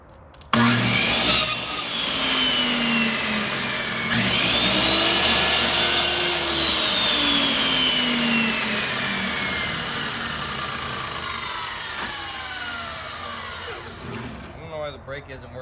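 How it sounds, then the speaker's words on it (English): A cheap garage-sale miter saw with a broken brake cuts through pallet wood boards, a loud whining motor and rasping cut running for most of the stretch and winding down slowly at the end. "miter saw, so some of them I have to roll in order to cut all the way through them"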